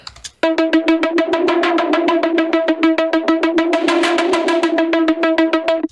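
A cinematic synth arpeggio plays steady, rapid repeating notes while a modulated filter cutoff sweeps through them, shaping the brightness. It is loud and continuous, with no voices.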